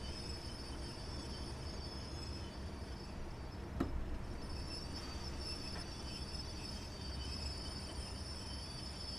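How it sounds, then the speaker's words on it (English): Train wheels squealing in Train Simulator Classic, a steady rolling rumble of wagons under a thin high whine, with one sharp brief screech partway through and insect-like chirping in the background. "You can hear the squeal running now."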